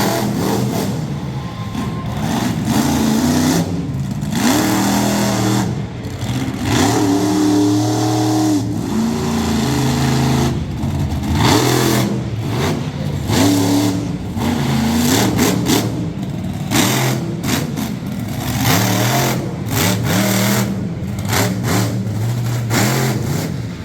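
A monster truck engine at an outdoor freestyle competition in Middletown, NY roars loud and close, revving repeatedly in rising and falling surges as the truck slings around, with brief dips between bursts.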